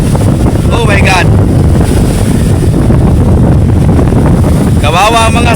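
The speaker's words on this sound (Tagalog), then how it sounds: "Lakas ng hangin mga kabiwas" Strong wind roars steadily across the open sea aboard a boat in big waves, a loud continuous rush with shouting voices breaking in near the start and end.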